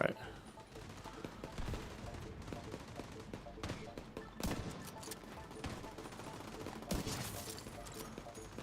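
Rapid gunfire from The Division 2 video game, a looter-shooter firefight with dense overlapping shots and bursts, steady throughout with a few louder spikes.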